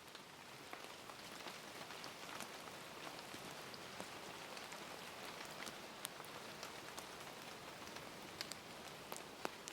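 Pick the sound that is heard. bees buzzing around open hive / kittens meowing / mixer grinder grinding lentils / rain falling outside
rain falling outside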